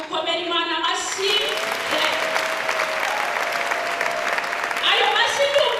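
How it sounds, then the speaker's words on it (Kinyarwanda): A church congregation breaks into loud, sustained applause, a thick wash of clapping hands with a preacher's voice briefly audible at the start and end, a held tone ringing beneath. "dukomere Imana amashyi"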